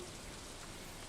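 Steady rainfall in the farming game Stardew Valley, a dense, even hiss of falling drops filling the scene with no other sounds.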